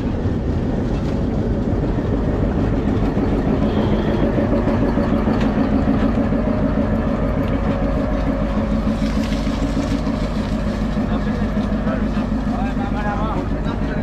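The Ruposhi Bangla Express runs steadily on its rails with a loud, continuous rumble and hum throughout, and voices are faintly mixed in.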